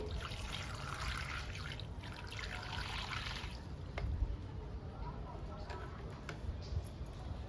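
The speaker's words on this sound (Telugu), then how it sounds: "వాటర్ ఇస్తున్నానండి." Water is poured onto a potted syngonium plant, a soft trickle and dribble soaking into the soil, faint and continuous over a low background murmur.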